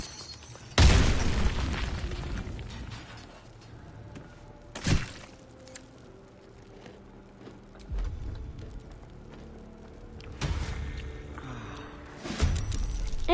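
Several booming in-game explosions from Baldur's Gate 3 erupt while attacking a door hinge: a big blast near the start, a sharp burst around five seconds, then rumbling follow-up impacts and another boom near the end, with quieter game ambience in between.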